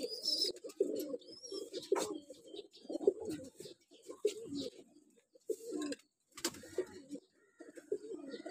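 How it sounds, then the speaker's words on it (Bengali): Flying pigeons on a rooftop coo in repeated soft, throaty phrases, close and fairly clear, with a few brief pauses and occasional chirps between the calls. "এই সিজনের উড়াল কবুতর এগুলা।"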